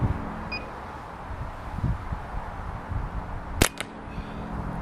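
A slingshot firing 3/8 steel ammo with .50 bands: one sharp snap-and-crack partway through, against low outdoor background rumble.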